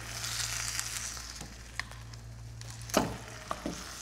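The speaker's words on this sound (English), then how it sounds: "We are going to just stir that up" Quiet stirring of Tex-Mex pulled pork chili ingredients in a pot, a low sizzle under a few soft scrapes and clicks from the spoon, with no talking.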